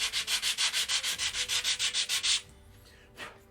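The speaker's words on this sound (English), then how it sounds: "So I need to do a little bit of sanding" Wood is sanded by hand during tower construction, with about fifteen quick, even back-and-forth rasping strokes, close and steady, then a pause and one last faint stroke.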